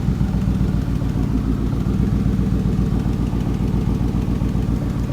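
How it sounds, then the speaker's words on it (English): A car engine idles roughly with a misfire, a loud close throb with an uneven pulsing beat that repeats steadily throughout, with no talking. "Does seem to be misfiring though, doesn't it"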